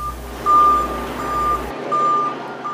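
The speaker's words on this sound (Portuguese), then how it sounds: "O caminhão dos bombeiros que transportava o caixão de Pelé, coberto com a bandeira do Brasil, chegou ao Memorial Necrópole Ecumênica para o sepultamento do ex-jogador." A fire truck carrying a flag-draped coffin pulls up at a cemetery memorial, its reversing alarm sounding a series of evenly spaced high beeps over a low engine rumble that cuts out partway.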